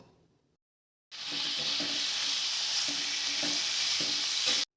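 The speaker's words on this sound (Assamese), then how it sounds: "বইল কৰা মাছৰুমখিনিয়ে আলুখিনিয়ে মই এতিয়া তেলত দি দিছোঁ।" Boiled mushrooms and potatoes frying in oil: after a brief quiet moment, a loud steady sizzle starts abruptly and continues, with faint stirring knocks underneath, close to the pan and without talk.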